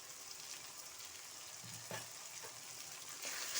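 Ginger garlic paste and turmeric sizzling with bottle gourd in a pan, a steady frying hiss with a few soft stirring scrapes, faint and continuous.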